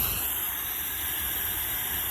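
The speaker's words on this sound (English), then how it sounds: "I do happen to use that spray, the Pantene spray" Pantene spray is misted onto a Persian cat's coat, making a steady, close hiss of aerosol that lasts about two seconds with no break.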